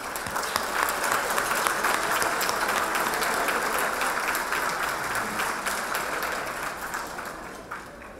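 A round of applause at a history makers gala held at an African American museum in Iowa, sustained crisp clapping from a sizable audience filling the room, fading slightly toward the end.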